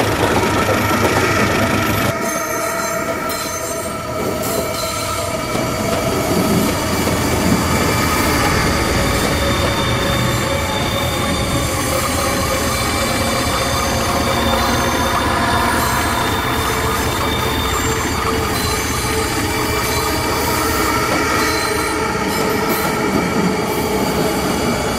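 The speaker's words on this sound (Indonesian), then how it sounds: "Aku menunggu rangkaian kereta api ke lokasi CC205." A rail train rolls steadily past, wheels squealing and grinding on the track throughout, loud and continuous with metallic screeching layered over the low rumble, no voices.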